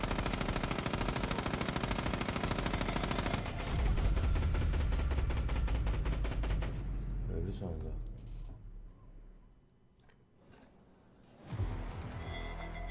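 Gunfire in the shooter game Far Cry: New Dawn: a long, loud, unbroken stream of rapid automatic fire that thins out and fades, then a fresh burst erupts near the end.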